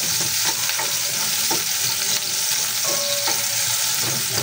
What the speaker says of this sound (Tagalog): Pwede na po natin isama yung ating luya. Ayan. Ayan, gisa-gisa lamang po.